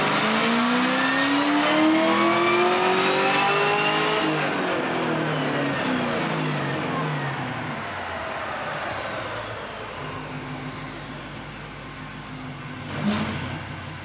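Supercharged Camaro ZL1 V8 on a chassis dyno, a loud close wail climbing steadily through the gears during a pull, then easing off to a lower drone, with a short blip near the end.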